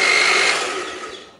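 A sharp-bladed kitchen blender grinds a spice paste with a little water, its loud high whirring whine starting at full speed and then winding down and fading.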